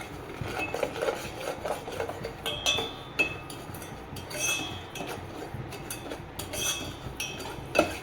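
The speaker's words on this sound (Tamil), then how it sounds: "வெறுஞ்சட்டியில் ஒரு 1/2 கப்பு சீனியை போட்டு கிண்டிக்கிட்டே இருக்கணும்" A spoon stirs half a cup of sugar in a dry, empty pan for rice payasam, producing scattered metallic clinks and scrapes in an uneven rhythm, near and moderately loud, with no talking.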